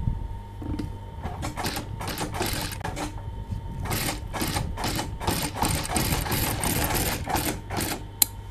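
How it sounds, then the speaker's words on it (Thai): Sewing machine stitching a buttonhole in folded fabric, its needle hammering in quick, even bursts with short pauses between runs, close and fairly loud in a quiet room. "พอพับได้แบบนี้แล้วก็เย็บ"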